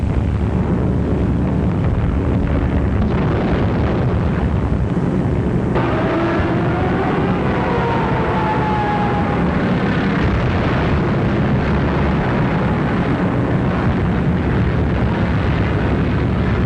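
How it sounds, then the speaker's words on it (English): Wartime bombing raid with bombs exploding over fleeing civilians, heard as a loud, continuous rumbling roar with heavy bursts and booms throughout and no voices. "Unopposed bombing raids sent defenseless civilians fleeing in stark terror."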